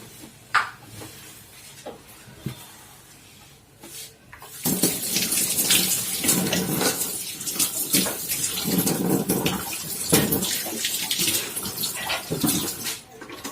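Tap water runs and splashes while sherbet bottles brought in from outside are rinsed at a home sink, starting softly with faint clinks, then gushing loudly and steadily after a few seconds until the end.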